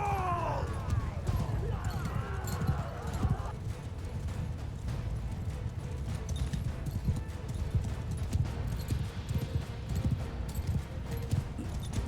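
Horse hooves gallop in Mount & Blade II Bannerlord, a dense, continuous drumming of clip-clop beats, with a whinny early on and faint battle noise behind.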